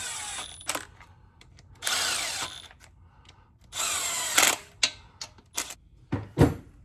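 Power drill or impact driver running bolts into the lower oil pan of a Ford 6.7 PowerStroke diesel, several short bursts of whirring close by separated by pauses and clicks, with no talking.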